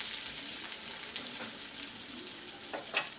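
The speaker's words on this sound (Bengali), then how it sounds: "পেঁয়াজটাকে হালকা করে একটু ভেজে নিচ্ছি" Chopped onion lightly frying in oil gives a continuous close sizzle with crackling pops and a few spatula stirs near the end.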